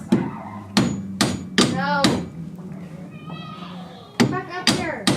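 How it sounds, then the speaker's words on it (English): Hammer blows knocking a steering shaft out of a BMW E30 during an LS swap, with sharp metallic strikes in a rough rhythm, near and loud, and someone talking between and over the hits. "Then once we do that, just hammer it up a little bit."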